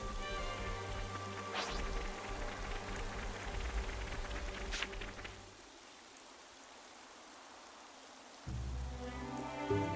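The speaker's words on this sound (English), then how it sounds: "Let's see what the coming rain brings." Steady rain falls across a farm field in Xenoblade Chronicles 3, a soft wash of drops running under game music. It thins out midway, then the music and rain swell back in near the end.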